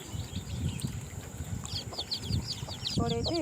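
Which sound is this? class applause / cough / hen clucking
hen clucking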